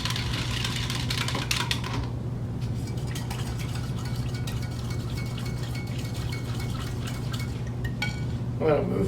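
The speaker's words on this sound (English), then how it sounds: "I will continue whisking these until they're almost at a light trace" Soap batter is whisked continuously in a container, making a rapid, light clicking rattle. A steady low hum runs underneath.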